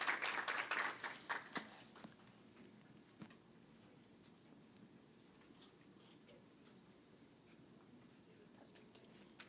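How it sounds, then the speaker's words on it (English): A small room of attendees at a city youth council meeting gives a brief round of applause that starts close and fairly loud, then thins to scattered faint claps over a quiet background. "Round of applause."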